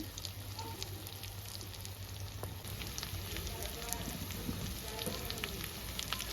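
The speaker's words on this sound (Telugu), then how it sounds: "ఇంకా కొద్దిగా ఫ్రై చేసుకొని దించేసుకుందామండి" Chicken pieces frying in a pan for a Telugu-style chicken fry, giving a steady, soft sizzle with crackle that runs unbroken throughout, fairly close but quiet.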